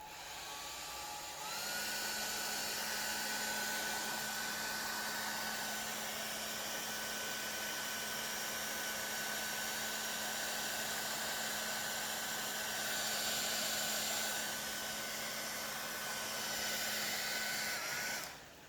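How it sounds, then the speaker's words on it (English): A steady, loud whirring hum of a hot air blower heating a Samsung Note 20 Ultra's broken back cover runs continuously for most of the clip, with a constant high whine and airflow hiss. "I'm gonna go ahead and heat this up"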